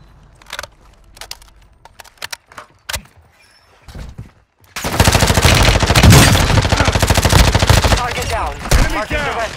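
Gunfire in a Call of Duty match, sparse single shots at first, then loud sustained automatic bursts and heavy firing in the second half.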